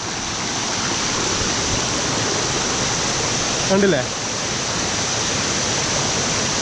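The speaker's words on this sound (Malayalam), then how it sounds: "നല്ല വെള്ളത്തിൻ്റെ സൗണ്ട് നല്ല കടിക്കുന്നുണ്ട് ഇവിടെ" Water rushing over the Urulikundu waterfall near Irikkur in Kannur, a loud, constant roar close by, with a brief spoken word rising over it.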